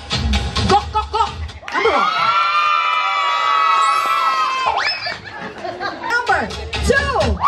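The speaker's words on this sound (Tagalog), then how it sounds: "Palakpakan ng sigawan para kay Gok Gok Gok!" A crowd at a surprise 60th birthday celebration cheers and shouts loudly, with children's voices in the mix, chatter and laughter around it, and a long sustained shout from the group in the middle.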